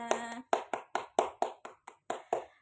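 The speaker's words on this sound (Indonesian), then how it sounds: "Beri tepuk tangan untuk kita semuanya" A small group of fourth-grade pupils in an elementary school classroom claps in a rhythmic pattern, about ten sharp, evenly spaced beats, close and clear, with a short voice at the very start.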